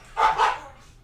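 Dogs bark twice in quick succession, close and fairly loud, during a board game session with no talk over them.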